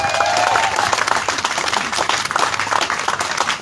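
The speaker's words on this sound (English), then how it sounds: "Can I get a round of applause?" An audience at a Black Business Boost reception applauds, with a crowd clapping loudly and continuously, a dense patter that stays strong to the end.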